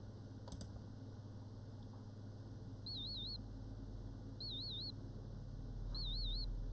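High-pitched warbling hearing-test tones sound in three short, evenly spaced bursts, each about half a second long, over a steady low background hum, with no talking.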